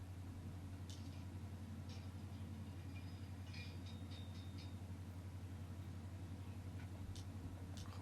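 Train in the Code Vein video game: a steady low mechanical rumble and hum throughout, with faint clicks and rattles on top and no speech.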